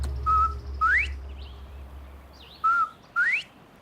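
A bobwhite quail on Texas rangeland calls twice, each a short whistle followed by a rising sweep, clear and moderately near over faint low hum and quiet outdoor ambience.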